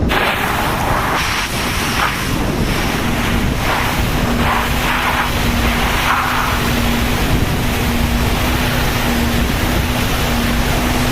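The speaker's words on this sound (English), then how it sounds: "so you hear a little bit less of the truck and a little bit more of the nozzle" A fire truck pump drives a compressed air foam (CAFS) nozzle at a demonstration. The spray gives a steady, loud, broadband hiss with a faint engine drone beneath it, continuous throughout with no talking.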